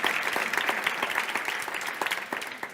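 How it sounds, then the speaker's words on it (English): Applause from a panel audience fills the room with dense, steady clapping at close range, holding strong throughout before easing slightly near the end; no voices come through. "So a big round of applause, please, for them."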